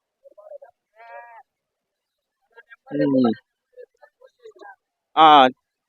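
Rams at a Rayalaseema sheep and goat market bleat in short, loud harmonic cries, one around the middle and a louder, higher one near the end, with scattered faint voices and market chatter in between.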